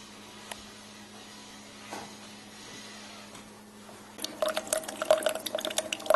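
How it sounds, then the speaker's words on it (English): Hamilton Beach The Scoop single-serve coffee maker brewing regular coffee, starting as a quiet steady hum, then after a few seconds breaking into a busy run of close gurgles, drips and pours of hot coffee streaming through. "You can see that it's pouring through, the coffee's steaming, it's nice and hot."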